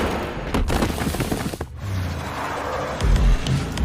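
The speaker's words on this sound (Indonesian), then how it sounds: "Herta menembak pengacara tersebut" A gunshot rings out in a film scene as Herta shoots the lawyer, a loud sharp crack amid dense noisy action sound, with another heavy boom near the end.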